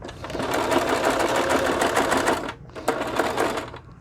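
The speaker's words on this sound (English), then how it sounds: "bobbins are super helpful if you're sewing" A sewing machine stitching at speed, a close, rapid mechanical chatter that stops briefly then resumes for another short run.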